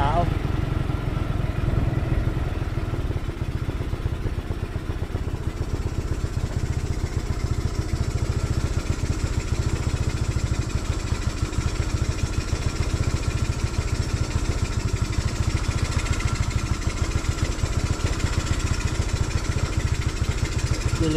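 A motorcycle engine runs continuously up close, a loud steady rumble with rapid rhythmic chugging and slight shifts in pitch.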